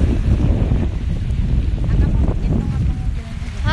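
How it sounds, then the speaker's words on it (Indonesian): Speedboat ride across open water to a neighbouring island, with steady wind buffeting the microphone over a low engine and hull rumble throughout. "Ini aku lagi naik speedboat ke pulau sebelah."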